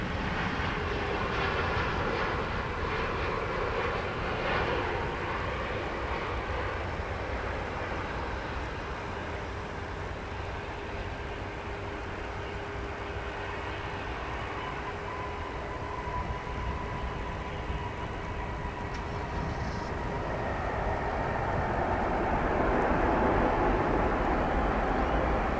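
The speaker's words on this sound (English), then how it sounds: "what you just saw was a Dreamliner coming in from Kahului" A Boeing Dreamliner jet arrives at DFW Airport with a loud, steady engine roar that stays constant and swells near the end.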